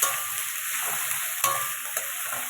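Tomatoes go into a hot frying pan for lentil dal, producing a loud, steady close-up sizzle with a few faint stirring taps and no talking.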